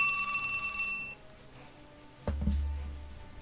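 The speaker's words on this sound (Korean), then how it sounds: "그 전화 미친 듯이 오네" A telephone rings with a bright electronic tone for about a second, then stops, followed by a dull thump and low rumble.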